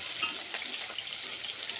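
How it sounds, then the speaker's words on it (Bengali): Cauliflower, carrot and beans, parboiled and drained, fry in a pan (kadai) with a steady, close, bright sizzle. The crackle is continuous, with no talk. "ফুলকপি গাজর আর বিন করে ভেজে নিচ্ছি সবজি ডালের জন্য"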